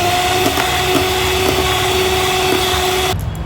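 Electric blender whisking a batter of flour and ice-cold water for ghevar, a steady close whirring motor drone with faint rhythmic knocks, cutting off abruptly at the end.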